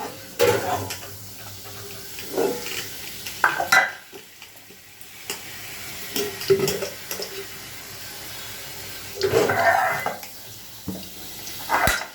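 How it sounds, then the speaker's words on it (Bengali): An egg fries in hot oil in a wok, crackling close by in uneven bursts, with intermittent louder sizzles and utensil sounds between quieter stretches. "তেল দিয়ে ডিমটা ভেজে ডিম ফাটিয়ে দিলাম।"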